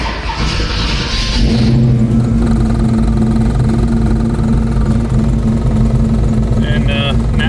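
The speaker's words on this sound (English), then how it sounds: "We shut it off, and we should be able to refire up the engine" A 1970 Chevelle with a 610 HP NRE engine cranks and fires back up, then settles into a loud, steady, lumpy idle close by, with faint clatter near the end.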